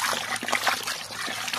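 Water trickles and splashes onto kale plants in a home vegetable garden, an irregular dribbling stream with small spatters, fairly close and alone without talk.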